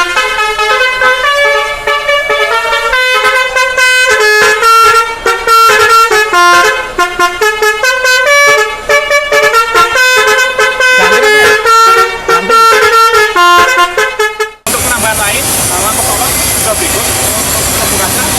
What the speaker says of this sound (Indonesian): Penambahan klakson basuri dengan tabung bawaan unit truknya